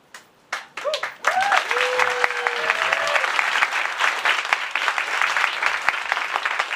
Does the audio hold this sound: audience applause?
yes